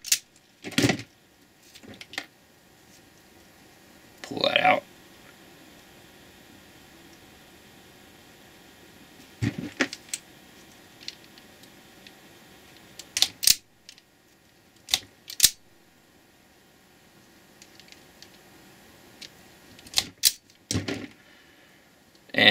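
Wire tips being snipped off for a BlueGhozt V2 wire harness: sharp, isolated cutter clicks spaced several seconds apart in a quiet room, with no talking.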